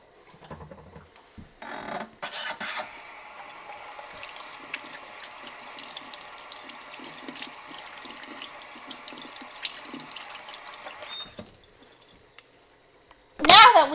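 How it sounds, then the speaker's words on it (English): Running tap water splashes steadily over hands at a sink for several seconds, a continuous moderate wash with small clatters, ending in a sudden louder burst. "Now that we have washed our hands, it is time to dry them."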